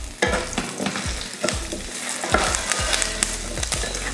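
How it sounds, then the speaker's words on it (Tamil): Tamarind, onion and lentils sautéing in a pan for chutney, a loud close sizzle with repeated rhythmic scrapes of a spoon stirring against the pan. "இந்த அளவுக்கு வதங்கினதுக்கப்புறமா இதில் கொஞ்சமாக புளி, அதையும் வதக்கிடலாம்"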